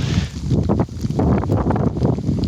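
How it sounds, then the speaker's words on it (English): Steady wind roars and buffets continuously, with low rumbling gusts and a faint rustle throughout. "There's still a bit of wind about, as you can hear"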